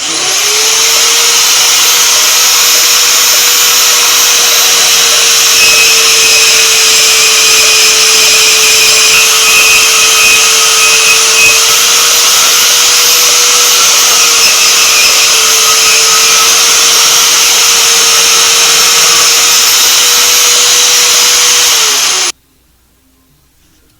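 A power tool cuts the welded tabs off a car front hub in a workshop, a loud, steady high-pitched grinding whine with a sustained tone that runs unbroken for about 22 seconds, then stops abruptly.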